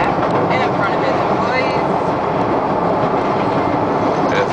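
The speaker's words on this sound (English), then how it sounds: "There's a train passing ahead." A train rumbles past ahead on a Chicago street, a steady dense roar of rail cars with clickety-clack running through the whole stretch, heard from close by outdoors.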